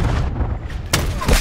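Sniper rifle shot in Black Ops 4, a sharp loud crack near the end over steady low battle rumble and game noise.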